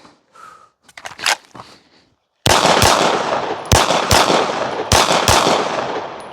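Several sharp, loud gunshots crack in quick succession during shooting practice, each blast ringing out over heavy sustained noise after a few seconds of quieter handling sounds.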